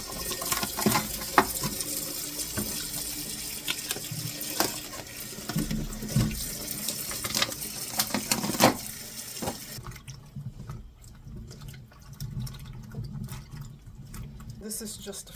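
Mushrooms washed under running tap water in a kitchen sink, a steady splashing stream with clatter of handling, dropping to a quieter trickle partway through; a voice speaks over it.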